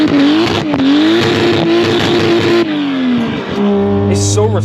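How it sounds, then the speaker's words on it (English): A Toyota JZX90 Mark 2 with a 1JZ engine, running low boost, revs hard on the throttle, its loud engine note climbing and falling in sharp surges before settling to a lower drone, with faint voices mixed in. "It's very responsive, isn't it, on the throttle?"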